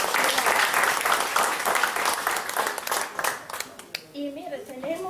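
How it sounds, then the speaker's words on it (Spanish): A crowd at a public gathering in Suchitoto applauds a teacher with dense, continuous clapping that thins out toward the end. A voice then begins speaking over the last scattered claps. "Un aplauso para maestra."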